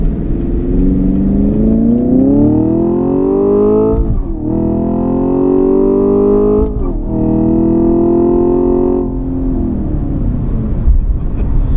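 A 2024 Chevrolet Camaro LT1 accelerates hard, its engine note climbing loudly through each gear with brief dips at the shifts, a powerful continuous roar heard from inside the car.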